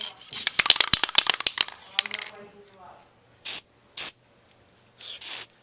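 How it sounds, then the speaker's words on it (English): Rapid clicking and rattling of a skateboard bearing, then several short, close hissing bursts of Tri-Flow lubricant spray separated by silence. "Just spray a little Tri-Flow or whatever you use on both sides there"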